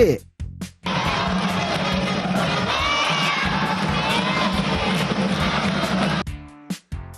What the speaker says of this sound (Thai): ร้องเล่นเต้นรำเปล่งเสียงเชียร์สุดแรง